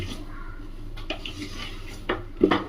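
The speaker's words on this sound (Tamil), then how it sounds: "நல்லா ஒரு தடவை மிக்ஸ் பண்ணிடலாம்." Tea cake batter being mixed in a bowl, with a few soft scrapes and then two sharper utensil knocks against the bowl near the end, close and fairly quiet.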